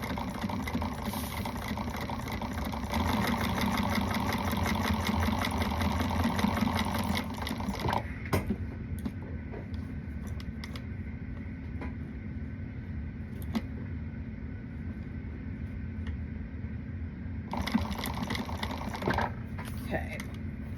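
A sewing machine stitches a fabric Alice Wristlet, running in a steady close hum for about eight seconds before stopping, followed by quieter handling sounds and a short restart near the end.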